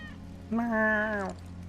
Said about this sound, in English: That's Wedge's cat.